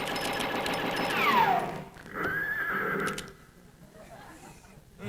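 A horse whinnies loudly in a descending neigh, then a second shorter whinny follows, with faint rustling and background noise at the end.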